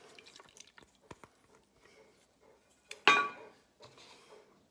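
Water pours and splashes into a very wet focaccia sourdough dough in a bowl, a short burst of liquid after soft drips and clinks, close and fairly quiet.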